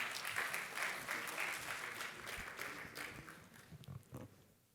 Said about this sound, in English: Can I have a huge round of applause for Balram?